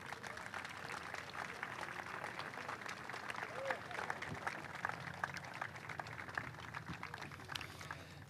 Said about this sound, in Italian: solo festeggiarci e facendoci personalmente un bel applauso.